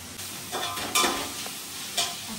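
Onions frying in a pan for a Sunday biryani: a soft, steady sizzle broken by a few brisk stirring scrapes, fairly quiet and with no talking.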